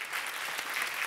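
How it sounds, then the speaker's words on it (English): Audience applause at an urban-planning conference discussion session, given to the young note-taking rapporteurs: a steady, dense wash of many hands clapping from start to finish, even and sustained. "A little applause for them."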